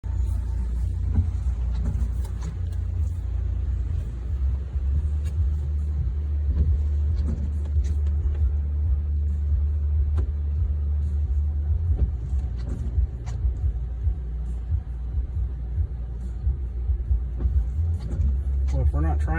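Steady low road rumble of a vehicle towing a trailer loaded with an abandoned Toyota Tercel SR5 wagon, a constant drone with occasional clanks and rattles from the load throughout.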